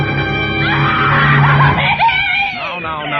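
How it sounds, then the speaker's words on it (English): A woman shrieks in a tense night-time radio drama, a loud sustained high cry that climbs and wavers for a few seconds before breaking into shaky, pitched-up vocal sounds. "then she threw up her hands and shrieked"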